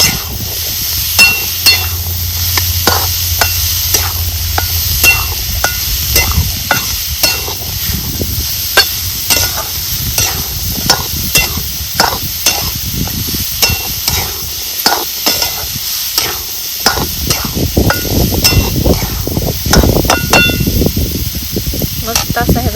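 Cooked cluster figs stir-fried in a pan with oil, a loud close sizzle broken by a long run of rhythmic scraping and clinking strokes from a spatula, with brief speech in the background.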